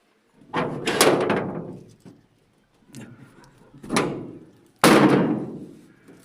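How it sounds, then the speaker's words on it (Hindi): A door at a shrine beside the Jhelum river bangs and creaks open in a few heavy, resonant bursts, each ringing out briefly before fading. "दरवाज़ा खुले, अंदर जा रहे हैं।"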